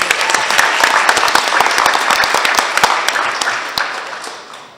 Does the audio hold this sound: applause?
yes